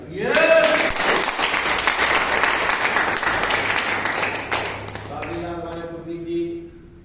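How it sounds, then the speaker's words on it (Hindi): Loud, dense applause from an audience at a company event, steady clapping throughout with a brief whistle near the start, fading slightly toward the end as a voice begins to speak. "जोरदार ताली"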